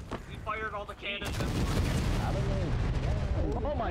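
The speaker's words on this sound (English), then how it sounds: "We fired all the cannons." A heavy volley of cannon blasts in the video game War of Rights erupts into a continuous booming roar, preceded by brief game sounds and chirpy effects.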